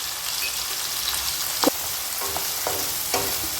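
Tomato and onion sautéing in a pan, a steady close sizzle with a few soft scraping stir clicks, no voices.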